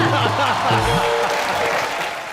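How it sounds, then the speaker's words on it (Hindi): Studio audience clapping on the Colors TV comedy show Comedy Nights Bachao, a loud steady burst of applause mixed with voices and fading slightly toward the end. "जोरदार तालियां"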